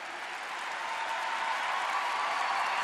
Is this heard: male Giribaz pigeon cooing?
no